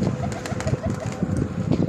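A red-tinged turtle dove (qumri) coos in a repeated soft rhythm outdoors, mixed with other bird calls and light background noise.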